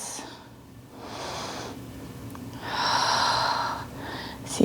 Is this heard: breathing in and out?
yes